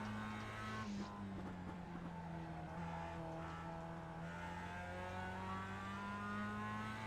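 A Mazda Cup race car in the iRacing sim at Mid-Ohio holds a steady, droning engine tone that rises and falls slightly while running alone at moderate loudness.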